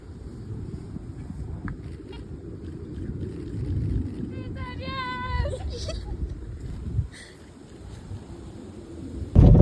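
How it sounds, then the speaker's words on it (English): A car rolling slowly up a bumpy farm driveway, heard from inside as a steady low rumble and jostling with wind buffeting, a brief muffled voice partway through, and a sharp loud jolt at the very end. "I'm pulling into our driveway, so it's really bumpy"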